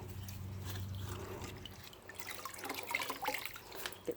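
Water drips and trickles into a bucket from a wrung-out towel during a two-bucket car wash, a faint, close, uneven patter with small splashes and no talk.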